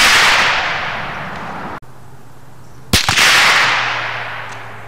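A large-game rifle fitted with a large suppressor fires a single sharp shot heard from about 100 yards, with a rolling echo trailing off afterward outdoors.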